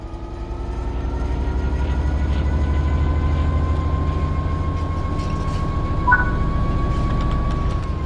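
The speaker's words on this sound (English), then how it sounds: "Apply some throttle to get the train moving." Simulated train in a train simulator game pulling away under throttle, a steady loud low engine drone with a rising whistle-like tone and a brief squeal near the end, no talk.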